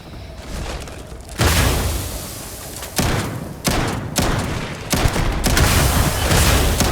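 Repeated gunfire bursts and heavy booming grenade blasts from combat in the sci-fi game Starfield, loud and close, several distinct thuds rising out of a continuous rattle of shots.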